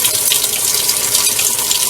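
Hot water from a tankless water heater gushes out of a tap at strong flow, a close, steady splashing rush that stays constant throughout.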